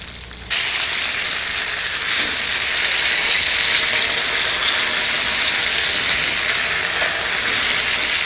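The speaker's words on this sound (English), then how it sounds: "Now we're going to pan fry these on both sides until they're golden brown." Four tofu steaks pan frying until golden brown, a loud, steady, dense sizzle that starts abruptly and continues unbroken for several seconds with no voices.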